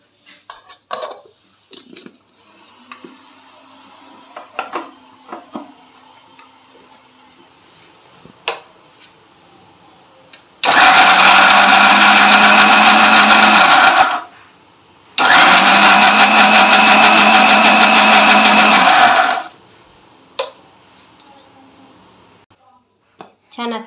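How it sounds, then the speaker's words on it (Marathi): A kitchen mixer grinder whirs loudly in two long bursts, grinding fresh coriander into a fine masala, with a short pause between them; quieter clinks and handling sounds come before. "छान असं मिक्सरमध्ये बारीक वाटून घ्यायचं आहे"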